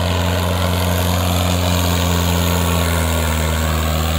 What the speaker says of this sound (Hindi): फुल आरपीएम पे ट्रैक्टर चल रहा भाई।